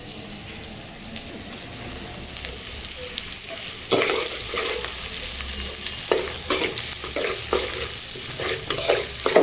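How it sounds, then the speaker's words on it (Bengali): A spice paste with bay leaves, onion and garlic fries in a pan for khichuri, with a soft steady sizzle that turns louder and busier as stirring starts, giving repeated scraping bursts close by. "এখানে দেওয়া আছে তেজপাতা আর সাথে পেস্টটা ভেজে নিচ্ছি না পেঁয়াজ রসুন আর তেজপাতা"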